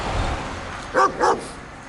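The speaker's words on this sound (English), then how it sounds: "You can stop barking finally." Two quick dog barks in succession in Banská Štiavnica, Slovakia, over a low background hum, fairly near and clear.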